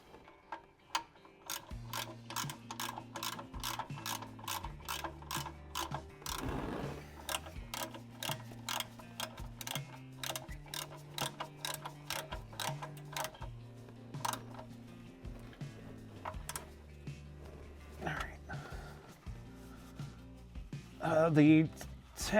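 A ratchet tightens a car's oil drain plug with rapid, even clicking that goes in bursts with short pauses, close and fairly quiet under someone talking.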